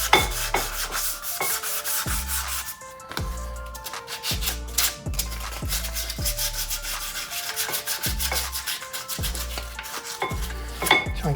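Steady back-and-forth rubbing of 320-grit sandpaper across the body surface of a Porsche Boxster 987, close and fairly loud, with a regular rhythm of repeated strokes and no talking.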